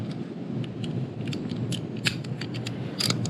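Twelve-millimetre bolts are worked loose by hand with a wrench from the footrest pedal assembly on a Honda Super Cub frame: scattered sharp metallic clicks and ticks, fairly close, over a steady low rumbling background.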